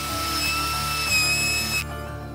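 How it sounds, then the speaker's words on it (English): A Forstner bit bores a starter hole in wood while building cat furniture, with a steady motor whine that cuts off abruptly near the end. "I had to use a Forstner bit to be able to make a hole so I could start the cut"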